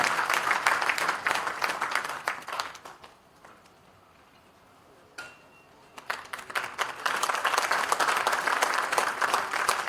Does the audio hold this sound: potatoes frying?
no